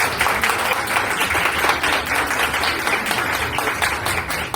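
An audience at an author's book presentation applauds loudly and steadily, a dense continuous clapping from many hands throughout.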